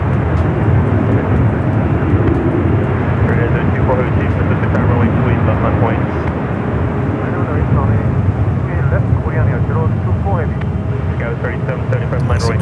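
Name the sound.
Boeing 777-300ER jet airliner at San Francisco airport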